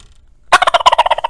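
A turkey mouth call with a bat wing cut imitates a gobbling turkey: a sharp loud burst of rapid, rattling gobbles after a brief quiet moment, close and alone.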